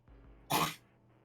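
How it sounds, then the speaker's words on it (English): One harsh, close cough bursts out alone over a faint background hum, short and loud compared with the quiet around it. "That's me hacking up a lung."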